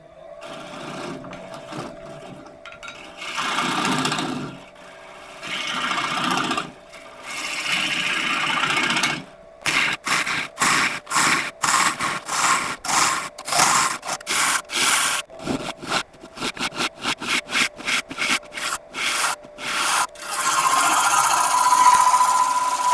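A wood lathe hollowing a crotch elm bowl: a steady motor hum begins under soft scraping, then rapid rhythmic chattering tool cuts repeat in quick bursts, close and moderately loud with no voices.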